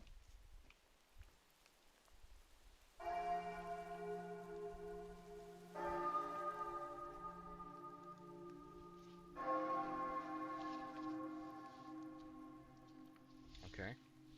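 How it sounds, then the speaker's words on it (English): Bells ringing in the Slavic folklore horror game One-Eyed Likho, three successive tolls with long sustained ringing tones, each fading slowly, moderately loud with a faint patter beneath. "I have to memorize the sound of the bells now."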